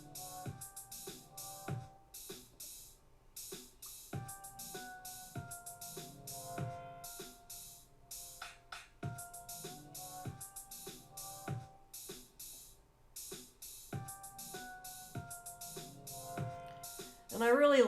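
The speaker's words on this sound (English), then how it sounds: "So I found this ambient swells sound in my sounds folder" Ambient swell pad from an Ableton Live sound folder is layered over a programmed drum beat, with steady rhythmic kick and snare hits and tonal melodic swells weaving through at a moderate, fairly quiet level.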